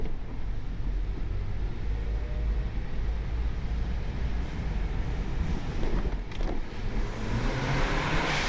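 A turbocharged Honda Civic with an R18 engine under way, a steady low engine drone and road rumble heard from inside the car, continuous and fairly loud with some wind noise.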